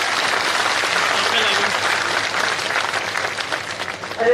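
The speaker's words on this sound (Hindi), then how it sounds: "एक बार जोरदार तालियों से स्वागत करें।" A ceremony audience breaks into sustained, dense applause at a statue unveiling and building inauguration, a steady wash of many hands clapping that holds evenly for several seconds before a slight swell at the end.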